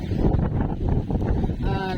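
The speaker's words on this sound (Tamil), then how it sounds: "காற்று அடிச்சிட்ருக்கு" Strong wind from Cyclone Fengal gusting in Chennai, a dense continuous roar buffeting the microphone loudly for the whole stretch.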